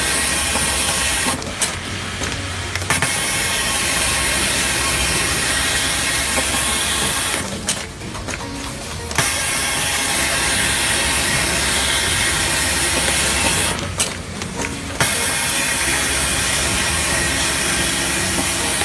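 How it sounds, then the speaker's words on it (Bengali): A device machine in a garment factory runs loud and steady, with a constant broadband whir and hiss. It briefly drops in level at a few points and no one speaks. "এটি একটি ডিভাইস মেশিন। এই মেশিনে কম সময়ে প্রোডাক্টিভিটি ভালো করা যায়।"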